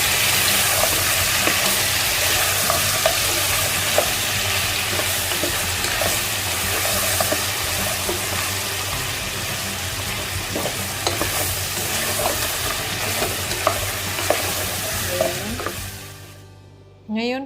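Ginger and garlic paste fries with pieces of mutton in a pan, giving a dense continuous sizzle under frequent scraping stirs, close and loud throughout before cutting off abruptly at the end.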